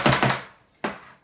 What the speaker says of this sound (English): the more you carry on chopping, the finer that's going to go